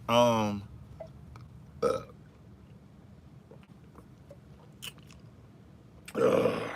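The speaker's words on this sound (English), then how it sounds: "I just sipped it, like literally just a little sip, and it got me burping." A loud, guttural burp bursts out right after a small sip of ginger ale, followed by quiet room noise, a brief second belch-like sound midway and another loud burp at the end.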